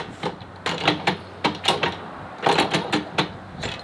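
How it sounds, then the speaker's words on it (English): Bolts on a brand-new Channell handhole box are worked by hand, a close series of sharp metallic clicks and ratcheting knocks in irregular bursts with short pauses between. "I'm just going to show you real quick how tough it is to do these bolts."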